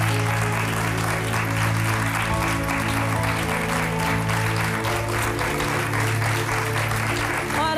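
A TV studio audience applauds in a steady, sustained wash of clapping, with a low hum beneath it.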